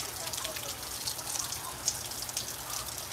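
Rain falls steadily outdoors, heavier on one side, a soft continuous patter with scattered drips and splashes, faint and even throughout.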